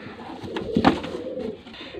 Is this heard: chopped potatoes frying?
no